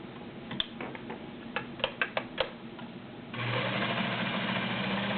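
A vintage Kenmore Model 84 1.2 amp cam sewing machine: a few sharp ticks and clicks, then the motor starts and runs in a steady, even whir.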